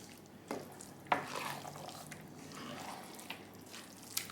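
Corned beef being stirred into a large batch of rice in a home kitchen, with soft scraping and clinks of a spoon against the pan and a low background sizzle.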